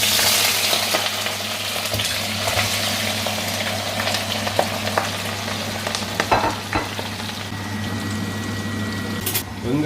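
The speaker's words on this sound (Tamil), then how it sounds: "வெங்காயத்தை பொன்னிறமாக வர மட்டும் பொரிக்கணுமா." Continuous loud sizzling of onions frying in hot oil until golden, with occasional stirring clatter and a steady low hum underneath.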